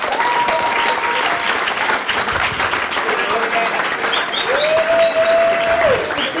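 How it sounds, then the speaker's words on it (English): Steady, loud audience applause at a comedy show in a New York City club fills the room with continuous clapping, and a few whistles ring out over it. "Give him a round of applause."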